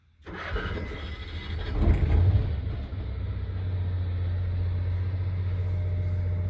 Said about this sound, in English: So I don't know if you can hear that, but the generator is now running in the coach.